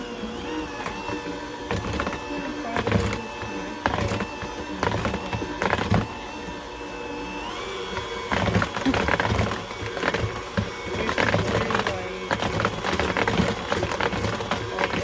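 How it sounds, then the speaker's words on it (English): An electric hand mixer whirs steadily through cookie dough thick with chunky butter, a close, continuous motor drone broken by clicks and rattles as the beaters knock the bowl. "Alright, so I broke out the hand mixer."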